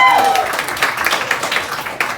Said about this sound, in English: Give yourselves a round of applause for being up so late on a Monday.